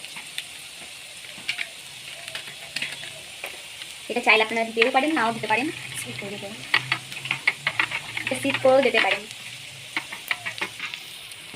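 Onions frying in a pan for a prawn malai curry, a close steady sizzle with scattered spatula scrapes while someone speaks over it in the middle.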